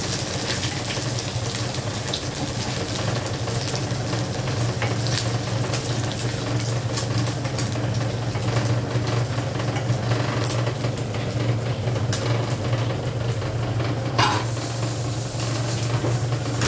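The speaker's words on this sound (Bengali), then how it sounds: "আর ওদিকে আমার মাছ ভাজিটা হচ্ছে।" Fish frying in oil in a pan on a home stove while a vegetable curry with prawns is cooked nearby; a steady, close sizzle and bubbling runs throughout with no talk.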